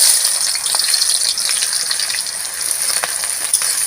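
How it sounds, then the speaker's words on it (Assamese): Chopped onions frying in hot mustard oil and ghee make a steady, close, hissing sizzle that holds at an even loudness throughout, with no talk. "এতিয়া মই তেলত পিঁয়াজখিনি দি দিম"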